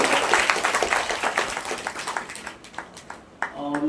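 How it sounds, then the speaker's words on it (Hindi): An audience at a satsang religious gathering claps in a busy burst of rhythmic applause that gradually thins and fades, then briefly picks up again, with some voices mixed in. "सबको ताली बजाकर"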